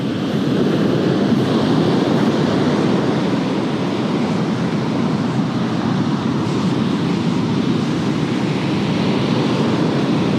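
Ocean surf breaking on a California beach during surf fishing, a steady, loud broadband wash of waves with some wind buffeting the microphone and no talk.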